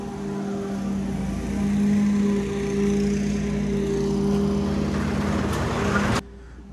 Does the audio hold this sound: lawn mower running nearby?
yes